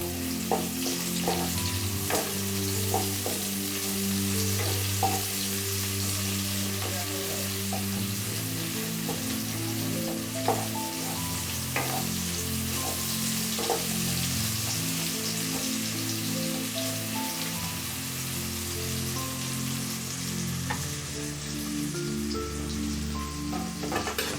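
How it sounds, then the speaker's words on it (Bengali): Chopped onion fries in a kadai with a soft, steady sizzle while a spoon stirs it, making repeated scraping strokes and occasional taps on the metal. "কুচানো পেঁয়াজটা আমি দিয়ে দিলাম। দিয়ে এবার আমি ভালো করে নাড়াচাড়া করব"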